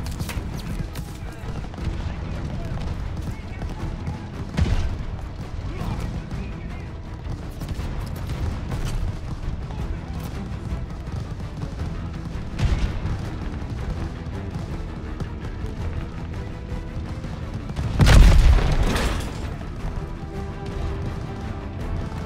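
Explosions and gunfire from tanks being destroyed fill a battle in the game Vanguard, with scattered booms, a heavy blast around two-thirds through, and voices talking over the din.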